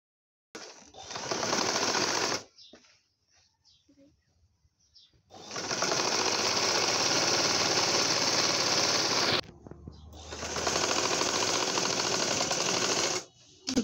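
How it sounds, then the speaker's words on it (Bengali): A sewing machine stitches gathered fabric for a round baby frock in two long, steady motor runs of a few seconds each, close and loud, with quiet pauses between them. "এখন আমি এভাবে সেলাই করে নিব।"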